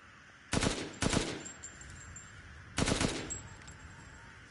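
Gunfire at crows in the video game Resident Evil Village: sharp, loud shots in two quick pairs with ringing tails between them. There is no talking.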